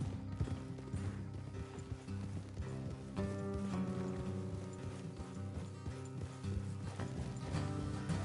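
Horses' hooves clip-clopping in the video game Red Dead Redemption 2, a steady trotting rhythm under a swelling background music score, with faint mechanical creaks.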